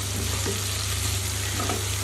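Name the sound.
stirring and frying spice masala with fried soybeans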